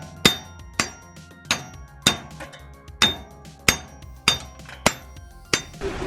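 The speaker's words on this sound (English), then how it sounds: "then the hub gets seized on, so you get a hammer" Nine sharp metallic hammer blows ring out on a seized rear hub of a clapped-out Nissan S13, struck at a slow, fairly even pace, close and loud, each with a brief clanging ring and no talk.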